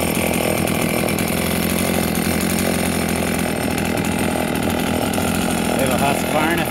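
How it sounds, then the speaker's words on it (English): A vintage Husqvarna 50 chainsaw runs close by with a loud, unbroken buzzing drone that holds steady from start to finish. "That one's pretty quiet, really. Quiet little chainsaw."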